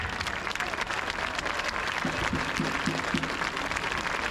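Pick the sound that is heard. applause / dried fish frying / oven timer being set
applause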